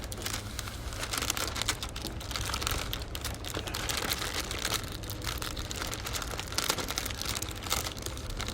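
Parchment paper being folded over into a pouch for baking line-caught Icelandic haddock, giving a steady close crinkling and crumpling with small crisp clicks and no talk.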